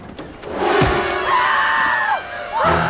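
A woman's scream in a horror film set in a women's dormitory on Christmas: two loud, sustained, wavering cries, the second short and cut off.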